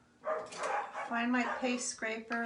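A dog barks a few times indoors in a craft workspace, a mix of short barks and yips heard close by, partly under a person speaking.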